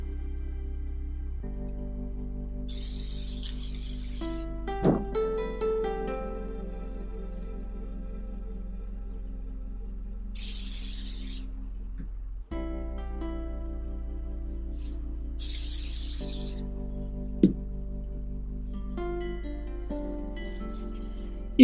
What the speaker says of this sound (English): You can then use 505 spray.